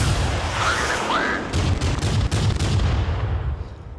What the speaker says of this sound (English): And now it's starting to feel like an airstrike.